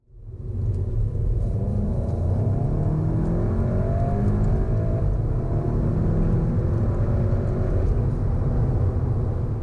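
A 2017 VW Golf GTI with a DSG gearbox accelerates hard from 30 to 70, its engine building from a quick onset into a loud, sustained rumble and rising drone heard from inside the car.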